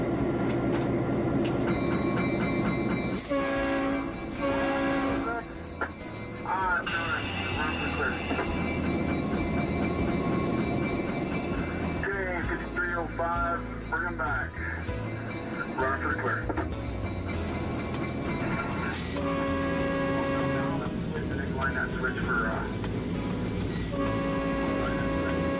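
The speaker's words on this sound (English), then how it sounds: "The railroad, with its 1950s-style era engine and passenger cars" A heritage railroad train with a 1950s-style engine and passenger cars rolls close by, its heavy steady rumble carrying shifting metallic wheel squeals and clatter throughout.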